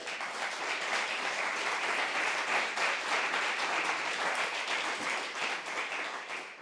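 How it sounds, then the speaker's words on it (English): At a university startup pitch night, the crowd claps for the mentors standing up in the room, a sustained, even roar of many hands that stays steady throughout and tapers slightly at the close. "Can you guys stand up too so we can embarrass you by clapping at you?"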